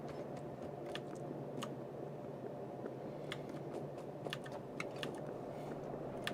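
Computer keyboard typing runs steadily through the whole stretch, soft scattered clicks and taps sitting faintly over a constant low hum of background noise, with no talking.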